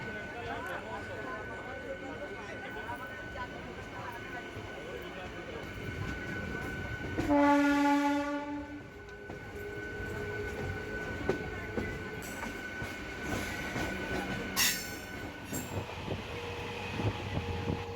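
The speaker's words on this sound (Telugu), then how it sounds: "గట్కేసర్ నుంచి అయితే ట్రైన్ స్టార్ట్ అయింది మళ్ళీ" A MEMU commuter train pulls out of Ghatkesar station, its steady rumbling ride broken by a loud horn blast midway, with later clanks and squeals as it gathers pace; a voice is faintly audible within the carriage noise.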